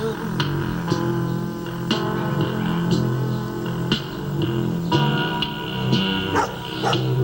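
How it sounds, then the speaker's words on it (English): Dogs bark repeatedly in the background beneath steady music, the sharp yaps coming in an irregular series. "You hear the dogs barking in the background?"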